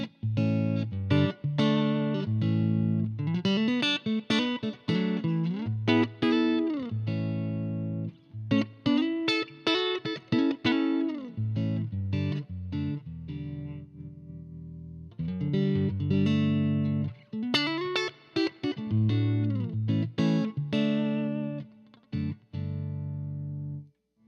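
A bright, crisp overdriven electric guitar riff from an amp miked at the center of the speaker cone plays continuously, close and loud, with chugging chords and quick picked notes, briefly pausing midway.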